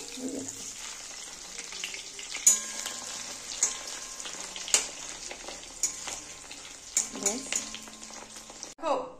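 Fish roe fritters fry in hot oil with a steady crackling sizzle and occasional sharper pops and scrapes, fairly quiet, while a voice talks intermittently over the cooking.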